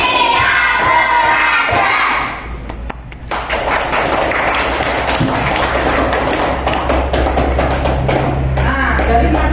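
Students in a classroom clapping game produce rapid, uneven bursts of clapping and tapping amid a noisy room full of voices and shouting children.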